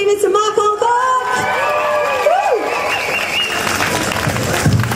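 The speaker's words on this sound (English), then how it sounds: "please give a big round of applause" A festival crowd claps loudly and steadily for a harmonica player, with whoops and cheers rising over the applause.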